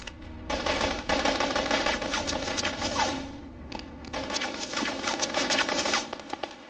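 Heavy machine-gun fire from the 1993 Somalia fighting rattles in long, dense bursts with overlapping shots, loud and continuous with a short lull in the middle.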